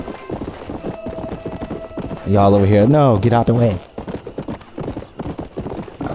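Galloping horse hooves in the Red Dead Redemption video game drum in a quick, steady rhythm, with a loud horse whinny rising in the middle and someone talking over the clatter.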